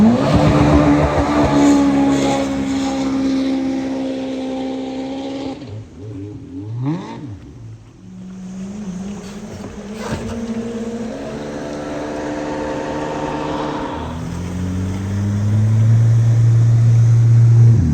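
A 14-foot-2-inch Wattscraft mini boat powered by a Yamaha 1.8 engine runs loud and close, its note rising and falling through revs, dropping to a lower idle midway before surging back up strongly.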